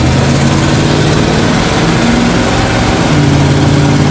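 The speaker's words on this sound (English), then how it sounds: "Let's see how it does at full throttle." A cold 1979 Dodge 100 truck engine held at full throttle with a freshly fixed choke, a loud, continuous, close roar with steady low rumble and no change in pitch, nothing else heard.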